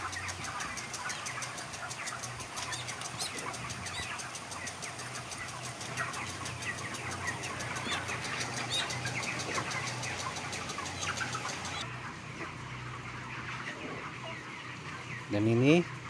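Dense chorus of 33-day-old broiler chickens fills an automated closed-house coop, with steady clucking over a constant hum of ventilation machinery; the crowded flock noise carries on without pause.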